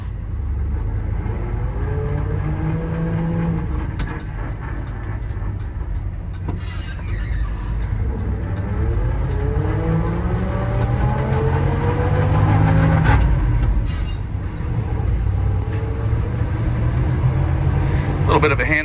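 A 1973 Ford F-350 custom fire truck engine runs close by on a test drive, its pitch rising and falling through gear changes in a steady, continuous drone with occasional squeaks.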